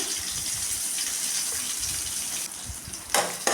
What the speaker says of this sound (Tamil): நல்லா கடுகு பொரிஞ்சிருச்சு இந்த ஸ்டேஜில் நம்ம கட் பண்ணி வச்சுருக்க வெங்காயம் ஒரு மிளகாய் கொஞ்சம் கறிப்பில் போட்டுக்கலாம்